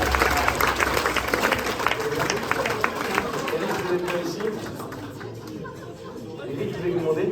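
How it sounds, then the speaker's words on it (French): At a 70th-anniversary dinner, a crowd claps warmly in a fairly close round of applause that gradually thins out, with chatter and voices mixing in underneath. "l'applaudir chaleureusement."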